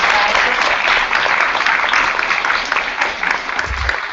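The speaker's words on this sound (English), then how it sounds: "Let's give Ian a round of applause." An audience applauds a speaker named Ian at the close of a morning session, a loud, continuous wash of many hands clapping with no talk over it.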